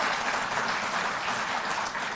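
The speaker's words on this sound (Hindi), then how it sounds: "तो एक बार जोरदार ताली।" An audience claps loudly and steadily at a Delhi government event for Delhi Jal Board workers, a dense, continuous round of applause with no voices over it.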